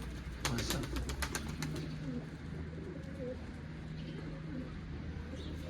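Tumbler pigeons coo softly and steadily inside a small pigeon loft, with sharp wing flaps or clatters near the start and faint background noise throughout.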